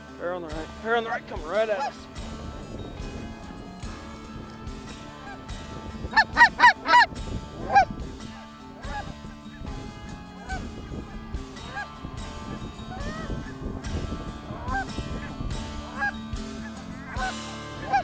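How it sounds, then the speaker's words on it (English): Geese honk as birds fly in and drop toward a waterfowl hunting spread, with a burst of loud overlapping calls mid-stretch and softer calls throughout, while hunters talk nearby. "Birds are just starting to fly and they're just falling in here."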